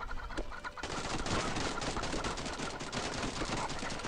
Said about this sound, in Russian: Откуда столько куриц бежит, блин?